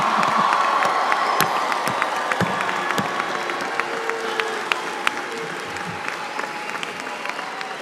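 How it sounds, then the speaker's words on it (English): Audience applause at the close of a university law school commencement ceremony, a large crowd clapping steadily with scattered sharp claps, some cheering and whoops, fading slightly over time. "So you could applaud again."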